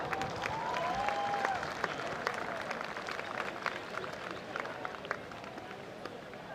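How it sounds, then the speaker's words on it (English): A crowd at a Bay Sheffield athletics meeting claps steadily for several seconds, a dense patter of applause that gradually thins out, with a brief whistle near the start. "Everyone give them a round of applause"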